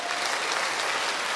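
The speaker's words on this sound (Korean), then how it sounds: "박수!" A brief, thick burst of many hands clapping fills a Baptist church prayer assembly, loud and unbroken from start to finish with no speech above it.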